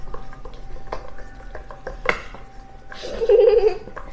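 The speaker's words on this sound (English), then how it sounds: "Actually, before we do that, I'm going to give it one final mix." A utensil scrapes and clinks against a bowl while chocolate cake batter gets its final mix, with several uneven knocks and a louder scraping swirl near the end, close up.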